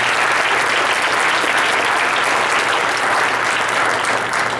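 An audience at a December holiday celebration breaks into sustained applause, a dense, even clatter of many hands clapping throughout, fairly loud and without speech.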